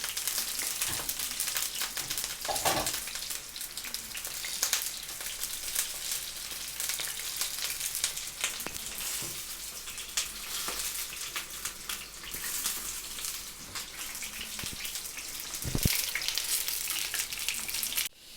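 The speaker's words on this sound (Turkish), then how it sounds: "Şimdi soğanı kızarttık." Chopped onions sizzle and fry in a pan as the base of a homemade tomato sauce, a dense, steady crackling hiss that continues throughout with occasional stirring clatter and no talking.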